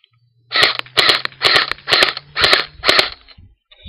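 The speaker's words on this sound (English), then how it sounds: "It's pretty accurate in burst firing." A Crosman R72 airsoft gun fires in bursts, giving six or seven sharp, close cracks in quick, even succession with a faint motor hum beneath them.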